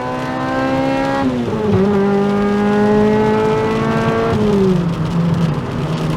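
A Toyota Celica VVTL-i sports car engine revs hard while driving, loud and close, its pitch climbing and dropping through gear changes with no talk over it.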